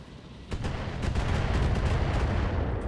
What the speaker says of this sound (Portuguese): Esperar o LRM atirar.